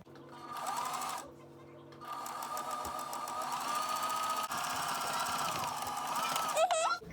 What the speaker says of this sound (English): So I'm going to sew this hem real quick,